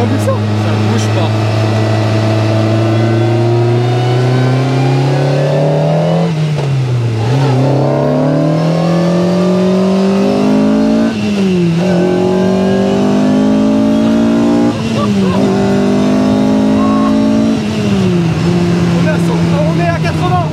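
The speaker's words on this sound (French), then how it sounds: "C'est une caisse de course." A prepared race car's engine revs hard and climbs through the gears, pitch rising and dropping at each shift over a steady loud drone, with people talking in the cabin throughout.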